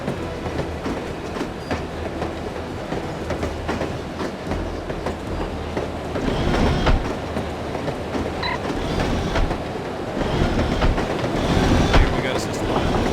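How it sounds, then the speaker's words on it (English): Train wheels rumble and clatter along the rails in a video game, with creaks and occasional squeals, a continuous ride noise that swells louder in bursts. "I love riding the train."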